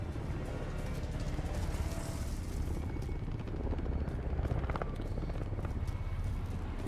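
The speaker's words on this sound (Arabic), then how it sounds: "هذيك الطيارة." Steady engine drone of an aircraft in the shooter game Call of Duty, a continuous whirring rumble held at even loudness for several seconds, with faint game effects mixed in.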